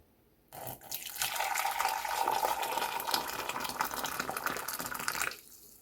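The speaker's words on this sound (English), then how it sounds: "Firstly, I'm going to put in my cinnamon stick and then add some hot water." Hot water pours steadily from a kettle onto a cinnamon stick in a cup for about five seconds, a close, continuous splashing fill that starts and stops abruptly.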